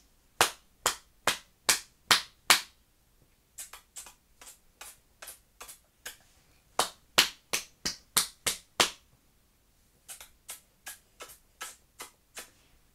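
Crisp hand claps come in short rhythmic bursts of five to eight, separated by pauses, close and clear in a quiet room during a children's diction warm-up.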